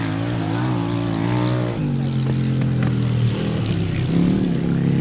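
Grasstrack sidecar racing outfit powered by a 600cc single-cylinder engine with a big bore kit, its loud buzzing engine note rising and dropping as it revs, then a second engine joining close by.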